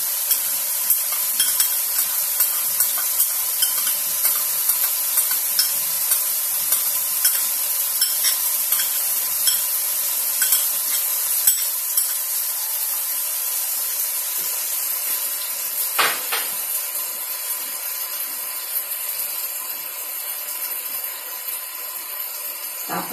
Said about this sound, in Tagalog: Ngayon guys, susurunin natin yung ating ketchup.